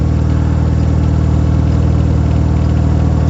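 A 1974 MG Midget with an upgraded two-barrel carburetor idles at fairly high revs, a loud, steady, even engine drone with a constant low throb and no talking.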